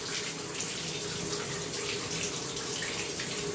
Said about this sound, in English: We're actually going to use the water here to help clean out the tub.